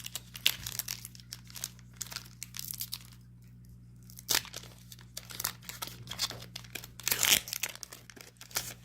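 Foil wrapper of a Pokémon trading card booster pack crinkled and torn open, a long series of close, sharp crackling rustles over a steady low hum, with no talking.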